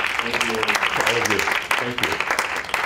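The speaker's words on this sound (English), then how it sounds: "let's give him another round of applause" Applause from an audience after a talk on teaching and difficult moments, a dense steady patter of many hands clapping close by, with a voice speaking briefly over it.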